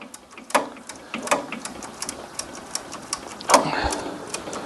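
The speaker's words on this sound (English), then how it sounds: "Always handy, a little ratchet spanner." A small ratchet spanner works on an ice cream van engine during an engine change, giving sparse, close metallic clicks with a few louder clacks and light workshop noise.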